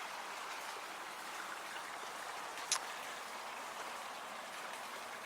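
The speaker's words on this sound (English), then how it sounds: "There's a little tiny creek down here that it's probably getting its water from" A small, shallow creek trickles beside the Manuawili Falls trail on a Hawaiian hike, a faint, even wash of running water that continues steadily, with one brief tick partway through.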